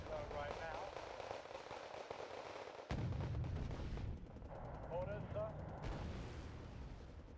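M108 self-propelled artillery fires support in a video game, heard as booming blasts and rumbling explosions under a busy battle soundscape, with an abrupt louder boom near the middle.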